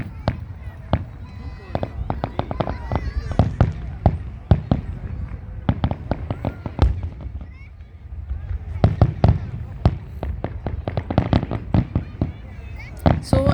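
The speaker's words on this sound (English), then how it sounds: "grand fireworks for a New Year celebration." Fireworks at the Sheikh Zayed Festival in Abu Dhabi go off in rapid, irregular bursts of sharp pops and bangs, with a crowd murmuring underneath throughout.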